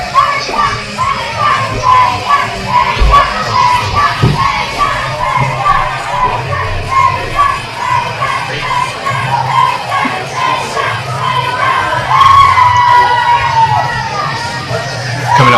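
A loud wrestling-show crowd, many of them children, shouts and cheers steadily for the wrestler Ajax at CCW, a dense close roar of voices that rises in bursts and stays up throughout.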